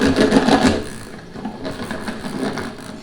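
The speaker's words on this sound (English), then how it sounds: "in a spinner and get rid of all the liquid that's inside of the lettuce" Lettuce spun dry in a salad spinner: a steady mechanical whirring and rattling, loudest in the first second, then continuing more softly.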